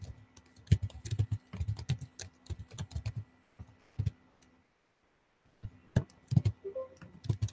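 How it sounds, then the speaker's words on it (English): Keys clatter on a computer keyboard in quick, uneven bursts of clicks, close and fairly quiet, pausing briefly midway before the typing resumes. "I'm just typing the shortcuts."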